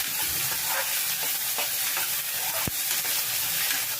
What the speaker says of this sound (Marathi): एक छोटा कांदा, एक छोटा टोमॅटो। त्याला चांगलं तेलामध्ये आणि बटरमध्ये परतून घ्यायचं आहे